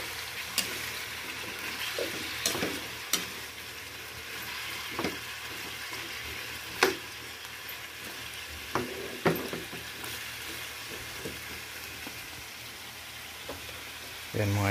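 Pork menudo with potatoes and carrots frying in a pan, a steady close sizzle broken by stirring clinks and scrapes throughout.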